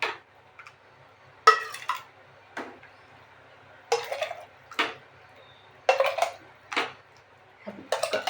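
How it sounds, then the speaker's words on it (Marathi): A small steel kettle set down into a pot of cold water in a home kitchen, a series of close, sharp metallic clanks and knocks separated by short quiet gaps. "हे केटली गार पाण्यात म्हणजे पातेल्यात ठेवत असते, म्हणजे थंड होते भाजी"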